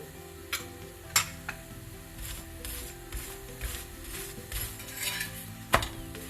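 Ghee sizzles softly in a pan while peas masala cooks, broken by sharp clinks and scrapes of a utensil against the pan, several distinct knocks standing out above the quiet frying hiss.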